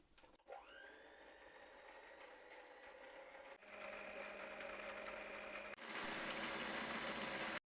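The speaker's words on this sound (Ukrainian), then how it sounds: "Спочатку яйця збиваємо з цукром до утворення пишної маси." An electric mixer whips eggs with sugar for a honey roll cake, a close, steady motor whine that jumps up in speed twice and grows louder and harsher, with no voices over it.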